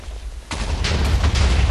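An explosion in a rat survival video game bursts in after a brief quieter moment with a deep, loud boom, followed by sustained rumbling and crackling debris.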